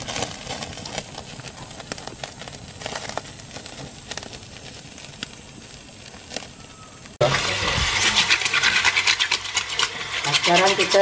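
Steady rough scraping and rasping strokes of a scraper on pig skin, close to the microphone, growing louder and denser partway through with repeated rhythmic scrapes.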